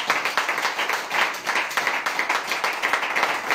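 A church congregation claps hands steadily in a quick, even rhythm, with dense overlapping claps filling the whole stretch and no one talking over them.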